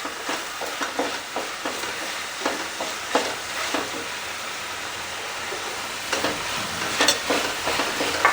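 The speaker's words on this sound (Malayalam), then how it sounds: "നന്നായിട്ട് ഇളക്കുക." Turmeric and chili powder stirred in a frying pan, a steady close sizzle with repeated scraping strokes of the spoon against the pan, with no voices.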